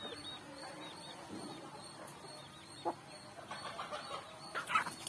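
Backyard chickens at home, lively and restless, give scattered soft clucks and brief calls over a quiet, steady background, with a slightly louder cluster of sounds near the end.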